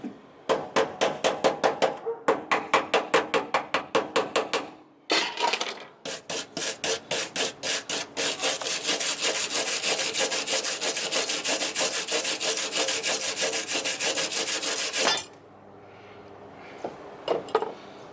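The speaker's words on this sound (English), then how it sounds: "So I'm gonna try to get some of this slag off." A tool scrapes and chips slag off a metal weld, first in quick rhythmic strokes, then in a long continuous grinding rasp, loud and close, ending in a few faint knocks.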